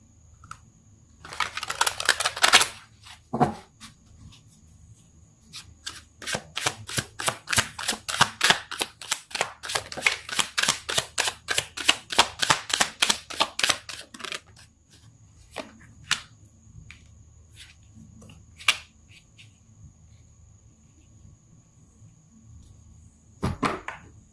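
Tarot cards riffle-shuffled, sharp rapid snapping bursts: a short flurry, then a longer dense run of quick crisp flicks, followed by scattered single taps and clicks, close and fairly loud with no talking.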